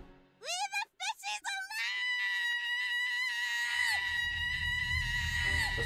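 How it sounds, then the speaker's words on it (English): A shrill, warbling siren creature scream from the video game Gibbous: A Cthulhu Adventure rises and holds at a piercing pitch for several seconds over a low rumbling background, preceded by a few shorter yelps. "Siren scream deep within her fishman blood"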